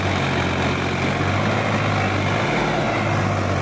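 A Sonalika DI 50 tractor engine strains hard under load while pulling, producing a loud, close, continuous heavy diesel drone with dense low rumble and no breaks.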